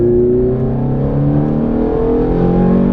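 A Ferrari accelerates hard at full throttle around the Mondello Park circuit, a loud, close engine howl climbing steadily in pitch without pause or talk.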